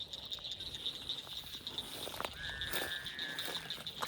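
A frog gives one faint, drawn-out croak of just over a second by the water at night, set against a steady shrill insect chorus and scattered small clicks and rustles.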